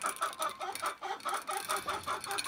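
Young chickens cluck and chirp in a yard with wood chips on the ground, a steady run of short, close, repeated calls in quick rhythm with no talking.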